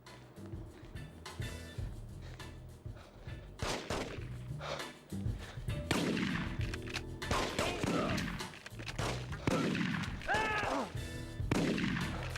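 Gunfire in the PS2 video game The Getaway, repeated bursts of shots and rapid fusillades crackling over a dense, noisy action background, loud and continuous across the scene.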